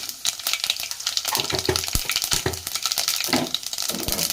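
Mixed tempering seeds crackle and spit in hot oil in a pan for carrot rice, a busy sizzle with sharp, irregular pops close by, with no voices.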